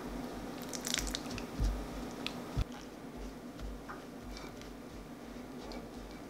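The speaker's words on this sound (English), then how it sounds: "adding water and combining it in small amounts" Water is worked into flour in a bowl for pie crust dough, making soft, faint squishing and scraping sounds with a couple of duller thumps, close by and without speech.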